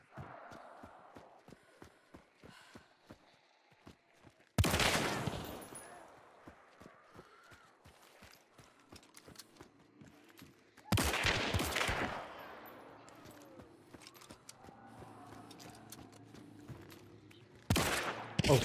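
Vetterli Cyclone gunfire in Hunt: Showdown, with three loud, close, booming shots spaced several seconds apart against a quieter stretch of faint clicks, footsteps and ambient game sound.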